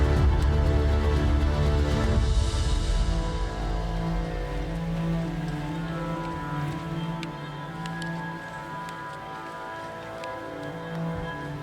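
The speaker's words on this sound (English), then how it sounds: "It's raining." Steady rain patters across a broad surface on a tundra hiking trail in Rocky Mountain National Park, a continuous hiss with scattered drops, fairly close and even throughout.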